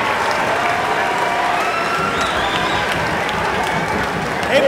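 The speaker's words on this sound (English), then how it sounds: "Give this guy a big round of applause" A crowd at the Pig N Ford races applauds and cheers for a racer. The clapping is loud and continuous, with cheers and shouts mixed in and voices rising over it now and then.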